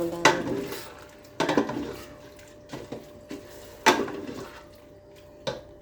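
Lentils and vegetables in a cooking pot are stirred in several separate strokes, each a short wet scrape and clatter close by, with quiet pauses between them and no speech.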